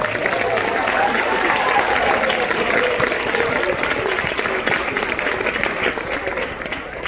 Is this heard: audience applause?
yes